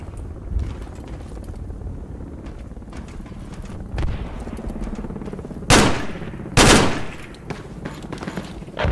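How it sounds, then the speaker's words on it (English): Gunfire in the military shooter game Project Reality v1.3, with steady rumbling battle noise broken by two loud, sharp shots close together near the end. "He's shooting this way."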